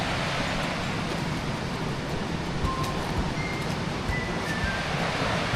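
Steady broadband rush of river water flowing at the Mōkihinui Forks on the Old Ghost Road, a continuous close wash with no break and a few faint high bird chirps over it.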